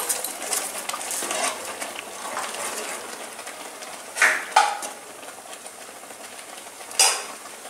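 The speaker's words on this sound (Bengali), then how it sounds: "এবার আমি দিয়ে দিচ্ছি এতে চিনি।" A spoon stirs sugar into a pot of taal kheer, Bengali palm-fruit rice pudding, with soft scraping and a quiet simmer, then a few sharp metallic clinks against the pot.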